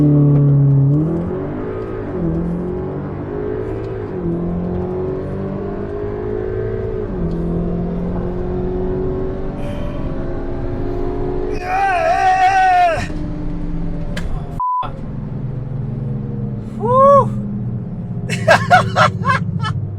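An Audi S3 8V on a quarter-mile drag pass, its engine revving hard up through the gears with rising whines and sharp shift breaks, loud and close from inside the car.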